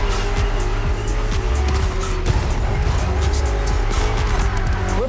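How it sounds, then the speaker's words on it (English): A BMW M CS drives in The Crew Motorfest racing game, its engine droning loud and steady while tires squeal and skid almost continuously. "putting 3 BMW MCS to the test over very long distances, and it's your job to drive them one after the other"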